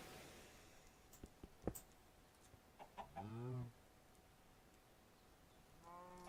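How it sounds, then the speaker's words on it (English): Minecraft chickens cluck in short, scattered bursts against a quiet background, with brief clicks and a few faint game sounds between them. "I finally get 2 chickens."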